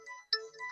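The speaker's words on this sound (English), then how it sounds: "Someone can't be ringing you when you're live." A short electronic mobile phone ringtone plays in brief melodic bursts with a small gap between them, fairly clear and close, heard in a live football broadcast setting.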